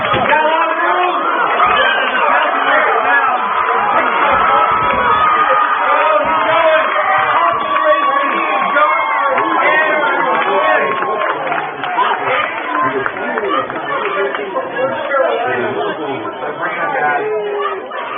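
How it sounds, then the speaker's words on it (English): Loud, rowdy crowd at a high school all-star football game, a dense wall of chatter, shouts and cheering that runs steadily throughout with no single voice standing out. "Crowd is rowdy on the south side"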